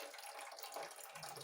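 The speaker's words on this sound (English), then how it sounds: "drain enough of this out that the water actually starts to run clear" Water runs steadily from the drain of a sediment-clogged water heater, a soft continuous gushing splash at low level, alone without voices.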